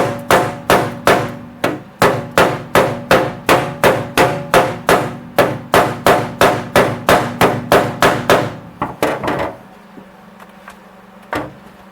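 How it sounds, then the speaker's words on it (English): Steady, rapid hammer blows on a metal car floor pan of a Datsun 280ZX under repair, about two to three per second, loud and close, stopping after several seconds, followed by a quieter hum and one final strike. "Take the heat, hammer it in some more."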